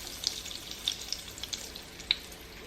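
Crab ball dropped into grease heated to medium high, giving a steady close frying hiss with scattered small crackles and pops, one sharper pop near the end.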